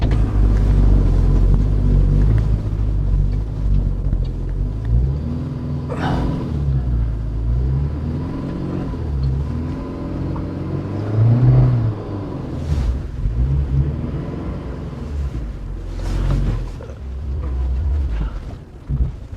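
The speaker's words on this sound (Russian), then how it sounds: "Мы сейчас с блокированным мостом пытаемся заехать, он начинает пробуксовывать, и машина дальше не идет." A UAZ Patriot SUV with automatic transmission, locked axle and low range strains up a slippery hill, its engine rumbling loudly and surging as the wheels spin and lose traction, with no talk over it.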